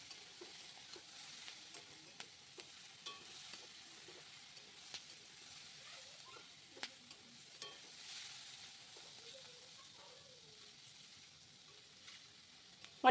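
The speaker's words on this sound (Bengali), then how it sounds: "ঠিক এই রকম এখন ভাজা হয়েছে।" Spiced ivy gourd (kundru) frying in a pan, a faint steady sizzle broken by soft scraping stirs and small clicks of the utensil, close and quiet, ending in a sharp loud knock.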